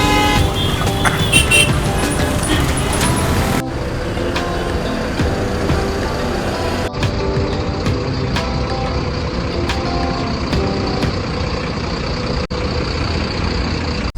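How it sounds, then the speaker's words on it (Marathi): A FlixBus coach leaves its stop with a loud engine hum and idling rumble, brief horn toots and beeping rising above the continuous traffic noise. "आपली गाडी इथून निघालेली डिपार्चर झालेली"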